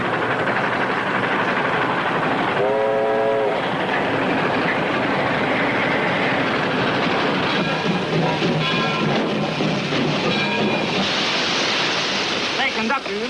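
A train rolls along the rails in a 1937 film scene, a loud, steady rumbling roar with rhythmic clatter throughout, and faint voices under it.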